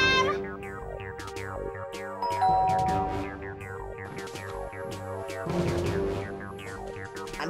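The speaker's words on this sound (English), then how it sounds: "Oh, great! Doorbell!" A doorbell chimes over and over, bright ringing tones layered and overlapping in a busy, continuous run.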